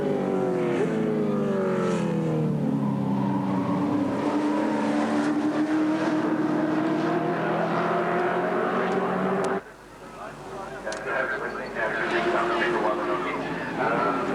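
Touring race cars thunder past at the 1982 Bathurst race, their engines climbing in pitch up the pit straight with a Doppler-like sweep and a sudden drop as one passes, under continuous commentary.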